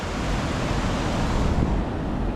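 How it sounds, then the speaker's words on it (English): Heavy ocean swell breaks along the Tenerife shoreline in a steady, dense roar of surf, close and loud, with a gusty, wind-like wash and no voices. "Look at the swell. That's an angry ocean."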